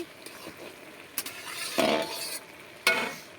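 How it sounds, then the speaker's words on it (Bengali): Ghonto, a vegetable dish, is stirred in a cooking pot: quiet sizzling with a few clanks and scrapes of the spoon against the pot, close by and without talk. "ঘন্টটা হচ্ছে আমি একটু নাড়া দিচ্ছি"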